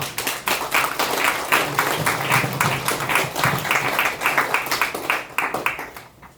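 A church congregation at a seafarers' mission anniversary service applauds steadily to welcome a preacher, with dense, even clapping from a large crowd that fades out at the end.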